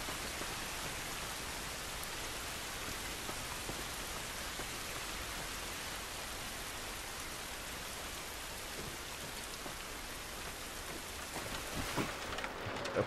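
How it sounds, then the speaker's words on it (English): Steady rain pours down outdoors in The Last of Us, a dense continuous hiss that fills the whole span with no clear thunder, swelling slightly at the end. "It's raining."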